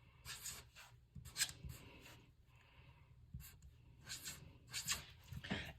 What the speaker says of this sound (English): The students can write it on the top of their card.